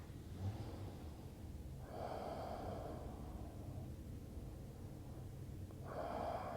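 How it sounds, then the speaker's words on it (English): Slow, full breaths during a yoga pose, two long audible exhales through the nose with a quieter inhale between, close and soft over faint room hiss. "2 full breaths here."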